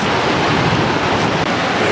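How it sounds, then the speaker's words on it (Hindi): A fast, ice-cold snowmelt stream rushes along the high mountain road between Gramphu, Batal and Losar on the way to Kaza in Spiti, a loud, steady, broadband roar close by, with wind buffeting the microphone. "ये देखो बहुत ज़्यादा ठंडा पानी है, बहुत ज़्यादा, फ्लो भी बहुत तेज है"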